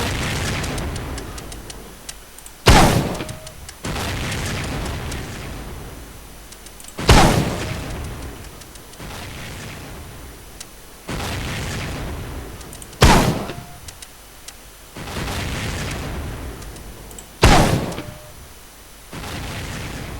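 Repeated loud gunfire bursts in the World War II shooter Medal of Honor: Pacific Assault, four sharp blasts spaced several seconds apart over a steady rumbling battle backdrop, with no talking.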